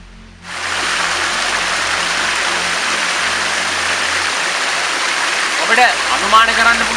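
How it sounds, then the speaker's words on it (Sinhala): A waterfall about 30 m high inside the Waulpane limestone cave, a loud, dense, unbroken roar of falling water that starts suddenly and persists, with a voice briefly speaking near the end. "මීටර 30ක් පමණ උස දියැල"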